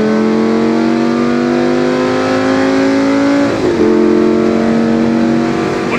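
A Lamborghini Gallardo sports car accelerates hard, its engine note climbing loud and close, dipping briefly at a gear change before pulling upward again, with no voices.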